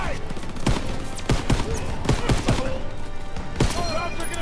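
Call of Duty battle gunfire, loud close rifle and machine gun shots cracking in irregular bursts of single and quick double reports over a noisy combat background, with shouted voices in the mix.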